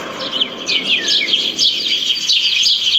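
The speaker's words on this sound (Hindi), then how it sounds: "सुबह सुबह जंगल से उठती जानवरों और पक्षियों की आवाजों" Forest birds chirp in the early morning, a dense overlapping chorus of bright tweets and whistled calls that runs steadily and close throughout, with no voices.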